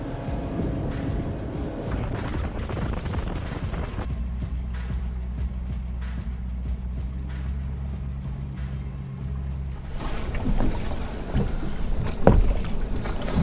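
A fishing motorboat hums steadily on Leech Lake, a low engine drone with wind buffeting and water slapping, growing rougher and louder toward the end.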